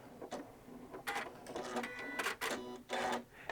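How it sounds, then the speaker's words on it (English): A Janome 9410 sewing machine runs a reverse locking stitch in a quick series of short, mechanical whirring bursts, fairly faint and with no voices. "just press your reverse button and keep your foot down on the foot control until it stops by itself"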